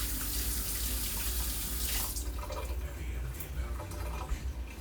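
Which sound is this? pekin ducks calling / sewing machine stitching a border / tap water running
tap water running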